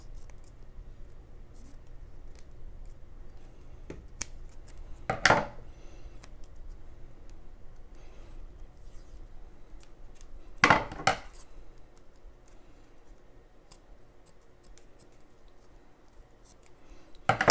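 Sealing material being cut smaller for a foam blaster mod, with a few short, sharp snipping or scraping bursts spread apart over a quiet, low background.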